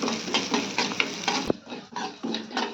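Moong dal being dry roasted and stirred in a pan for Krishnashtami avalakki payasa, giving a steady rustling, scraping stir with light sizzle, repeated strokes close by, with no voices.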